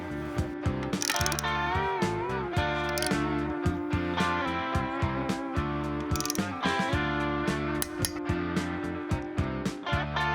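Rapid ratcheting clicks from a torque wrench snugging the lug nuts on a demo wheel of a Viper Red Dodge Dart fitted with upgraded brakes, in repeated bursts of sharp metallic ticks over a steady harmonic background.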